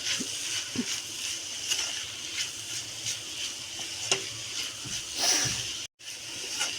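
Bitter gourd curry being stirred with salt in a pan, a soft steady sizzle with scraping stir strokes and occasional spoon clinks, close and moderately loud, with no talking.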